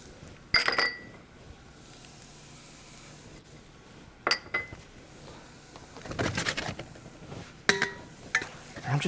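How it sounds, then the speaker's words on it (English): Ingredients being stirred in a pan with chicken thighs, salt and pepper while cooking a keto dinner: sparse clinks of a utensil against the pan and soft scraping, with quiet gaps between bursts. "I'm just going to stir in my ingredients."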